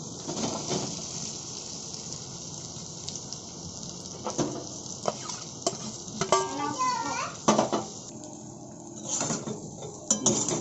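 Fried potatoes and pointed gourd stir-fried in spice paste for a Bengali potol chingri dish, sizzling under scraping and clattering of a spatula against the pan, with voices talking briefly in the background.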